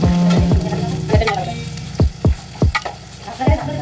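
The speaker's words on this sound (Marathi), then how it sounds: "आता आपण यात लांब 6-7 चिरलेल्या मिरच्या टाकून त्यांना सुद्धा व्यवस्थित" Long chopped green chillies frying in a pan with cooked onions give a crackly sizzle, broken up by repeated scraping knocks of a spoon stirring against the pan.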